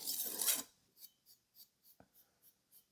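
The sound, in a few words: knife strokes on Takayuki Shibata whetstone sharpening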